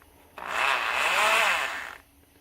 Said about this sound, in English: Mine was a cheap Walmart drill.